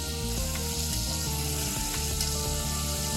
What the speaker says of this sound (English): Altogether, the shrimp should take about 2 to 3 minutes to cook.